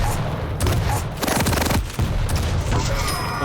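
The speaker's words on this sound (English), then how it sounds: "Nice rocket to the face." Rocket blasts in a competitive arena shooter match, a rapid series of loud explosive bursts and gunfire cracks in quick succession, with a short lull and then more impacts.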